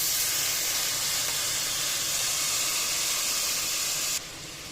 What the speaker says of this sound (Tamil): இப்போ வெட்டி வச்சிருந்த தக்காளியை ஆட் பண்ணிக்கிறேன்.